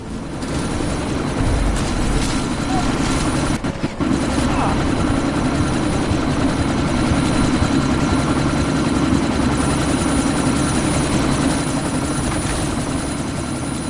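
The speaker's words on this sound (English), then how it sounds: "That chopper's about to take off!" Helicopter in the video game Deus Ex: Mankind Divided runs up before takeoff with a loud, steady rotor and engine drone and a deep low rumble, unbroken throughout, with brief faint voices near the start.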